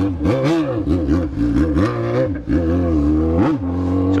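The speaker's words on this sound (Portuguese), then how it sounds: "corre pra caramba essa moto" A Yamaha XJ6 motorcycle engine revs hard up and down several times in quick bursts, loud and close, its pitch climbing with each throttle twist.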